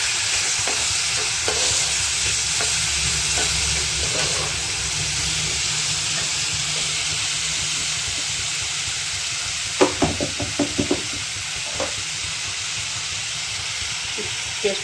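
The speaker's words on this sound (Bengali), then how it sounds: "ভালো করে মশলাটা কষিয়ে নেব।" Ground spice paste frying in a pan for jackfruit kofta curry, a steady close sizzle and hiss with a cluster of sharper scraping and stirring clacks toward the end.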